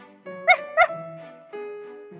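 A cartoon puppy gives two quick, bright barks in a children's phonics story, close and clear, followed by sustained musical tones.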